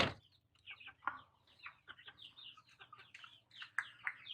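A native rooster on a small backyard farm gives soft, scattered clucks and short calls at low level, with no talking.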